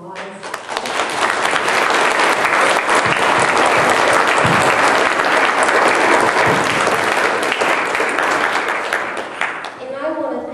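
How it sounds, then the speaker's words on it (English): Loud, sustained applause from a theatre audience after a Chanukah play, many hands clapping in a thick, even roar that holds steady before tapering off, with a voice starting at the close. "can we just go ahead and give them applause?"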